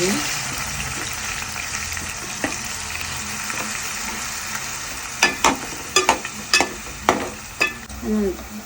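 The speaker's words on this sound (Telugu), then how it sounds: "కొత్తిమీర పొడి వేసుకోవాలి అందులో కొంచెం కరివేపాకు బాగా వేయించుకోవాలి" Coriander powder and curry leaves fry in hot oil for a crab curry, a steady soft sizzle under the cooking, broken near the end by several sharp scraping stirs and clinks.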